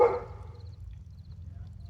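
Dogs bark once, short and fairly close, right at the start, then a steady low hum carries on with no voices.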